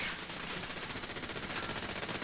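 Rapid automatic gunfire from Gunners in Fallout 4, a steady fast rattle of shots lasting a couple of seconds at moderate volume, with no talk over it.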